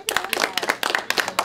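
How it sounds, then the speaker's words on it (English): Audience applause at a Tea Party launch event, a short burst of brisk, close, fairly loud clapping from several people. "Let's hear audience applause."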